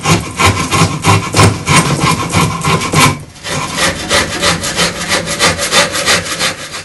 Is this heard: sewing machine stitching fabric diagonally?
no